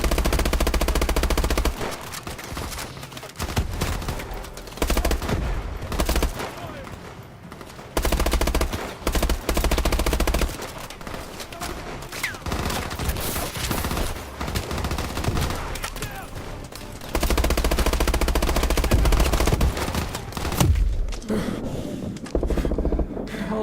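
Sustained automatic gunfire and bursts in the video game Call of Duty: Advanced Warfare, loud and near, with several pauses between heavy volleys over roughly twenty seconds.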